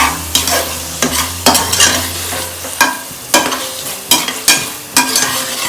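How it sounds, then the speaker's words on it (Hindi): A spoon stirs chilli dal and ballar beans in a hot pan, steady sizzling and frying with rhythmic scraping strokes repeating every second or so, loud and close. "बल्लर की छिली दाल, इसको ऐसा मिक्स करना है।"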